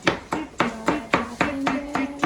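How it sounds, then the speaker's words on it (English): Knife chopping garlic on a cutting board for lasagna roll-ups, about nine quick, evenly spaced crisp chops, close and clear with no talk over them. "we are going to finish chopping the garlic"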